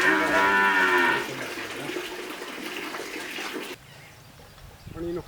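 Tied cattle at a village settlement moo loudly in a drawn-out low call at the start, followed by quieter rustling and a faint second low sound near the end.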